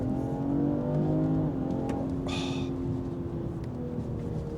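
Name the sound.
tuned BMW 545e hybrid G30 accelerating at full throttle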